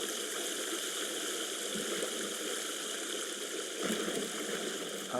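Water in a horror survival game, steady broadband rushing and sloshing as a character wades in, continuous and fairly loud with a faint low hum underneath and brief splashy surges near two and four seconds.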